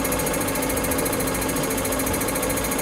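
An MB Trac diesel injection pump turning over on a test bench gives a steady, dense mechanical rattle and hammering at close range, continuous throughout with no talking.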